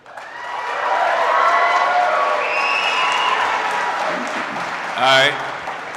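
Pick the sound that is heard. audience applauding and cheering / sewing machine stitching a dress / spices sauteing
audience applauding and cheering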